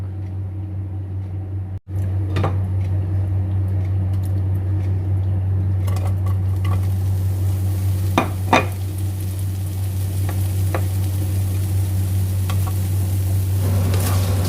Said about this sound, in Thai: ใส่หอมไปผัดเลยนะครับ